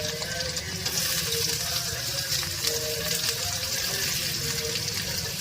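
Ginger, garlic and onion sizzle steadily in a frying pan while an eggplant and tomato curry is cooked, giving a continuous close hiss and crackle with no pauses.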